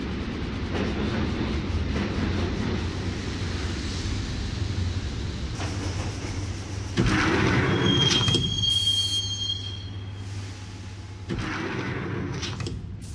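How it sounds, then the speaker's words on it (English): Subway train ride in the video game Max Payne: continuous rumbling rail noise with clattering wheels, a high thin squeal partway through, and surges in loudness as the carriage rolls on, no speech. "the train doors had already shut behind me, and I was in for the ride"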